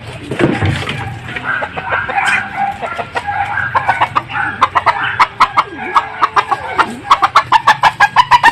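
A red chicken clucks loudly and close by, its calls speeding into a rapid, rhythmic run of sharp clucks toward the end, with occasional louder squawks.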